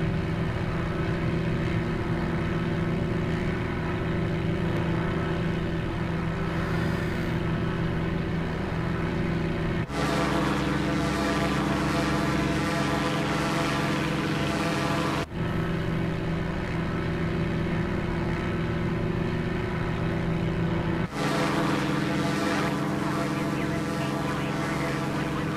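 An Edgley EA-7 Optica light aircraft drones steadily in flight over Wellington, New Zealand, its engine a loud, continuous hum with a slight shift in tone partway through.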